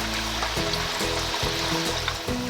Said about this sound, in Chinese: 往油里边下入土豆